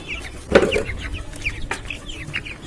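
Sasso chickens cluck and chatter close by, with one louder squawk near the start and a steady stream of short clucks after it.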